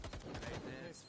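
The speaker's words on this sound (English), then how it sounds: "Anyway, we got some gunfire." Gunfire bursts in a competitive tactical shooter video game, a quick run of rapid shots, fairly faint and brief.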